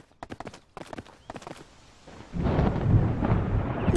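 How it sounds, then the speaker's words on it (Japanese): Thunder in Sword Art Online Alicization Lycoris: after a run of sharp clopping hits, a loud low rumble rolls in and holds steady, heavy and close. "また雷がひどくなった気がする。"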